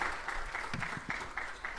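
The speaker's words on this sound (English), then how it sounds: "So we'll move to a round of applause again" Brief applause from an audience at a conference session, a short burst of steady clapping heard at a moderate distance.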